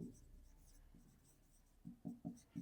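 Pen writing an answer for a sixth-grade integers math exercise, faint scratchy strokes in short bursts, with several quicker stroke clusters near the end, close but quiet.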